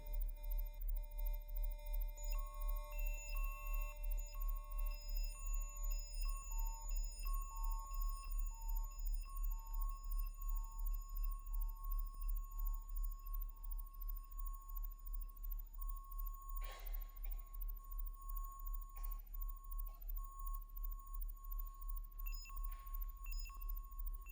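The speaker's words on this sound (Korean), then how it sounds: "거의 순수한 사인웨이브랑 그리고 제가 뭐 생활 속에 쓰고 있던 뭐 전동 칫솔 이런 소리들을 녹음해서 이렇게" A live electronic piece built from near-pure sine waves and recorded electric toothbrush sounds: steady pulsing low drone under repeating high beeping tones and sustained pitches, faint and long, with a few brief noisy bursts.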